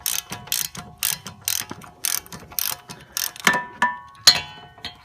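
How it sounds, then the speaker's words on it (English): Rapid clicking of a 12mm ratchet backing out a bolt during a control arm replacement on an Infiniti G35, a close series of sharp ratchet strokes in short bursts, with a few metallic clinks near the end. "So I'm taking this 12mm ratchet here, and we'll just take this out."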